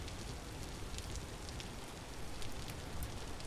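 Steady rain falls in the video game Vintage Story, a dense, even hiss of drops on surfaces with no voices over it.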